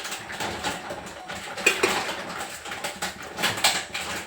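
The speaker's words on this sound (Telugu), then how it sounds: "ఇప్పుడు స్టవ్ మీద కడాయి పెట్టిన" A metal kadai is set down on a home kitchen stove, giving a few light clinks and scrapes of cookware against the burner grate, close and fairly quiet, with no talking.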